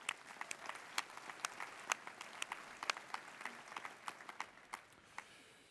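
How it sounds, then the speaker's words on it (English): Sparse, scattered clapping from a modest audience at a conference keynote, individual claps distinct and fairly quiet, thinning out toward the end. "a big round of applause for joining us"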